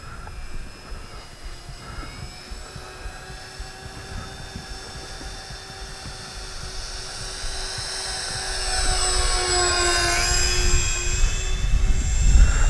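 A high, whining engine of an Avios Albatros V2 radio-controlled model plane drones steadily for the whole stretch, rising in pitch and swelling louder toward the end as it passes nearer.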